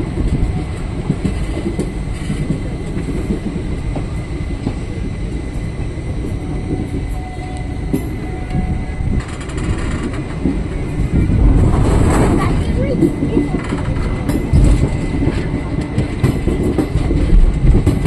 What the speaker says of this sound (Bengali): স্টেশনে ট্রেন ঢুকে গেছে,